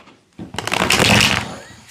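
A stack of tarot cards riffled once in a close, steady flurry of papery flutter lasting about a second, then fading out.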